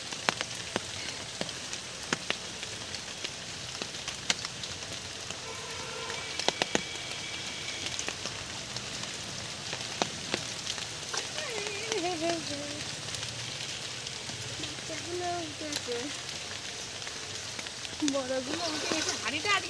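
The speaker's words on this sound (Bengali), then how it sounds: "সকালবেলা টিপটাপ বৃষ্টি পড়ছে" Light morning rain patters steadily on surfaces outdoors beside a pond, a soft, even hiss with scattered drop ticks, while a voice talks faintly partway through.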